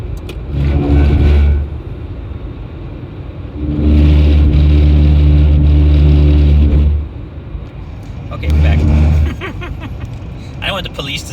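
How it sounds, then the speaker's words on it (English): A 2004 VW Jetta Wagon hums along the road from inside the cabin, its engine swelling into three loud revving pushes with quieter cruising between them. "I'm just bringing you guys along so you can see how good this car drives and runs"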